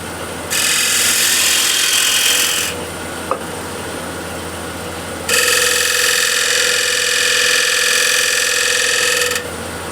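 A gouge cuts freehand on a walnut or cherry plate spinning on a wood lathe, giving two loud, sustained hissing passes with a short pause and a tap between them.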